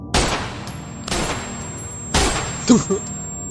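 Three loud gunshots spaced about a second apart, each with a short echoing tail, followed by a brief muffled vocal sound.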